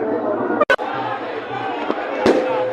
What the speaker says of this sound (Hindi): अशोक गहलोत के स्वागत के लिए यहाँ आतिशबाजी भी की जा रही है।